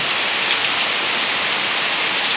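Heavy rain pours down in a constant, loud, even hiss of dense drops on surfaces, with no speech over it.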